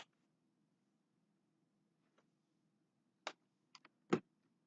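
A few sparse key clicks from typing a word on a computer keyboard, quiet and close, in short irregular bursts over a low steady hum, with no talk.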